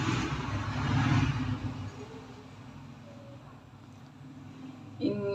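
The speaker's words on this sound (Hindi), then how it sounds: "इन मोटरसाइकिलों का मैं कुछ नहीं कर सकती" Motorcycles pass outside, a loud engine rush up close at first that fades into a lower, more distant drone, with another vehicle sound rising at the end.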